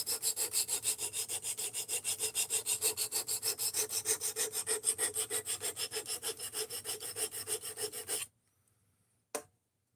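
Steady back-and-forth rasping of a knife blade being abraded on a sharpening surface to remove material, a fast even rhythm of strokes up close, stopping abruptly with one brief scrape after a pause.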